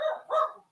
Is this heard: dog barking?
yes